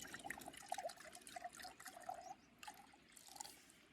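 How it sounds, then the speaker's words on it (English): Water trickles and splashes into a dehydrated hiking meal pouch, a soft, close, uneven pour with faint gurgles and brief pauses, no voices. "I'm not sure how much water I need to put."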